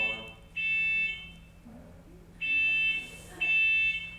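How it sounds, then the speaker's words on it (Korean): Fire alarm going off indoors during a Saturday Dharma talk at a temple, three loud steady electronic beeps separated by pauses, with faint talk in between. "That's our fire alarm."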